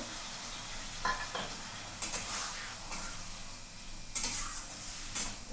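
Onion, ginger and garlic frying in a pan, a low steady sizzle with intermittent scraping stir strokes, close and fairly quiet.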